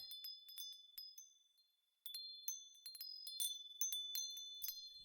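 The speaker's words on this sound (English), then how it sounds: "what you're hearing right now is the sound of a huge Moshi rainbow" A cartoon rainbow makes a magical sound effect of very faint, high, bell-like tinkles and chimes. The sparkling notes come in scattered, twinkling bursts with a brief lull near the middle.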